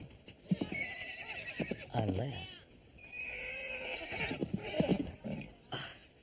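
A horse neighs in a drama scene, a wavering, descending whinny rising above nearby talk, with scattered shuffling and a few sharp knocks before and after.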